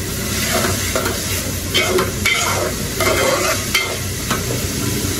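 Spice masala sizzling and frying in a pan on a stovetop over raised heat, with steady loud crackle and repeated scraping strokes of stirring throughout.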